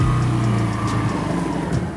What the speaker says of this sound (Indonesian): Jadi John, kita mau cobain motor ini.